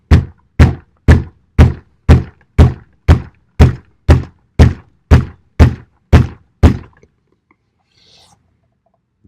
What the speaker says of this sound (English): That's just hitting it with my hand.